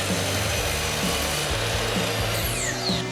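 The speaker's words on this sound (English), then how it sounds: "I have these two old oak sheeting boards, so I'll just trim them down to fit in there" Old oak sheeting boards are cut to size with a power saw, giving a loud, continuous close grinding whine that rises slightly near the end, with no talking.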